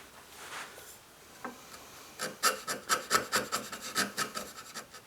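A sharp chisel pares and trims a wooden tenon for a mortise-and-tenon joint, a quiet early scrape followed by a quick run of about a dozen rhythmic rasping strokes, close and fairly soft.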